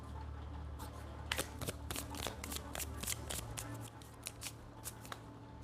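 Tarot cards are shuffled by hand in a quick run of crisp riffling snaps and flutters, close and fairly soft, with no talk.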